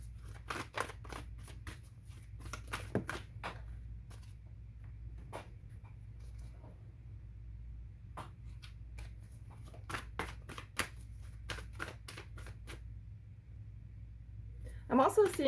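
Quiet, repeated riffling of a card deck being shuffled, in short bursts with pauses, close up over a low steady background hum.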